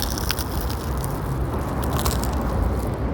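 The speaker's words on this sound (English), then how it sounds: "The fresh bread just from the oven. Shit, it tastes so freaking good and sounds so freaking good." Crisp crunching bites into crusty bread fresh from the oven, loud and close, a continuous crackly crushing texture over a few seconds that stops abruptly.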